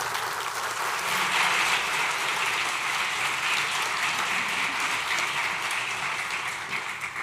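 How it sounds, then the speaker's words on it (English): Sustained audience applause at a school district state-of-the-schools address honoring military service, a dense steady wash of many hands clapping for several seconds at even loudness, tapering slightly at the end. "Give that a round of applause."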